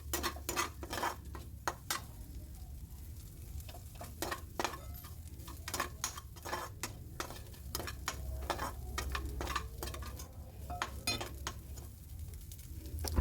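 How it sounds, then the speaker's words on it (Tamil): Egg frying and being stirred in a pan over a low flame, with a soft steady sizzle under repeated light scraping and tapping of the spatula, close and fairly quiet, no talking. "லோ ஃப்ளேமில் வச்சு நல்லா குக் பண்ணி எடுத்துக்கோங்க முட்டையை"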